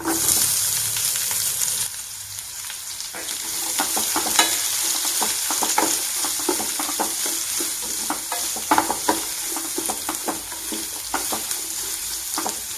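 Chopped onion hisses loudly in hot spiced oil with garlic in a pan for a Kerala-style chickpea curry, a dense, steady sizzle with repeated scraping strokes of a spoon stirring close by.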